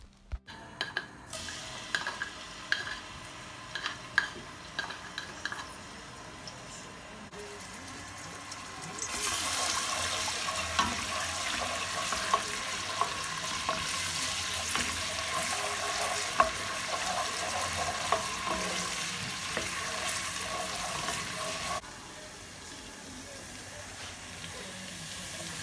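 Crushed ginger and garlic sizzle in hot vegetable oil and ghee in a saucepan, starting quiet and swelling into a loud, steady frying hiss midway before easing off again near the end.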